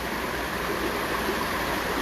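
Water flows in a constant, full rush like a stream or small waterfall, loud and unbroken, with no voices over it.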